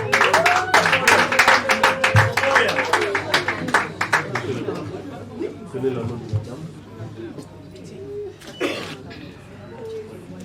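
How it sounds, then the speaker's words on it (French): Applause and scattered clapping from wedding guests at a civil marriage ceremony for a couple, dense at first and thinning out, with voices and chatter running through it and a brief vocal flourish. "Applaudissements."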